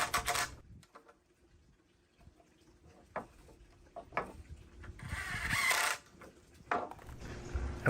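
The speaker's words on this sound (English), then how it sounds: "I'll go ahead and secure it with the two screws." Pocket hole screws driven into wood joints while building a faux stone wall set, heard as several bursts of mechanical whirring and clicking separated by short pauses, with a longer, louder run near the end.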